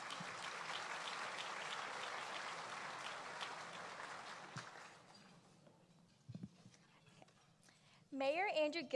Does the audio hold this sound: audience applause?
yes